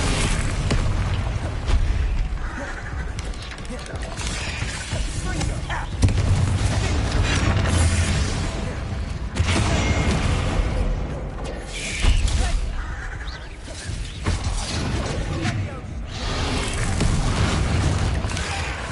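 Bombarda spell blasts in Hogwarts Legacy on PS5 land as repeated heavy booms and crashes amid dense game combat noise, with a voice calling out between them.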